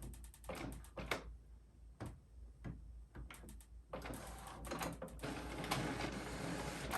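An Epson ET-8550 EcoTank inkjet printer runs a power cleaning cycle, giving off a string of sharp mechanical clicks and clunks, then a steadier grinding whir of the moving carriage and pump, all quiet and nearby.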